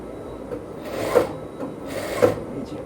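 An overlock sewing machine stitches along the top edge of a bell sleeve, its soft mechanical whirr swelling in two short bursts over a low steady rasp, close and moderately quiet with no talking.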